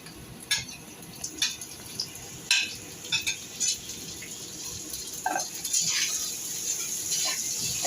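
Beans go into a pan and are stir-fried, a soft sizzle running under scattered spatula clinks and scrapes against the metal, close by and irregular.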